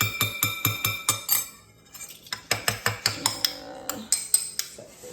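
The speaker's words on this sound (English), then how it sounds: "Just gonna mix that in." Utensil mixing sandwich dressing in a bowl, giving a run of sharp, regular clinks and scrapes against the bowl, close and fairly quiet, with a short pause midway before the rhythmic clinking resumes.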